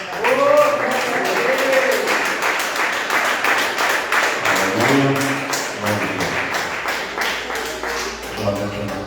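Church congregation applauding, a steady wash of many hands clapping throughout, with singing or speaking voices rising above it at intervals.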